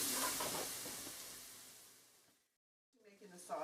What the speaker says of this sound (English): Making the sauce now. So once this butter melts